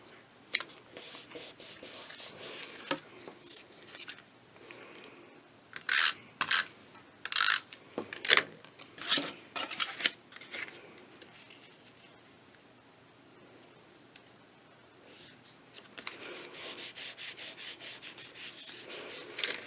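Paper edges being trimmed on the back of a fancy fan craft piece, a series of soft close scraping and snipping rubs, irregular bursts with quieter pauses and a denser run at the end.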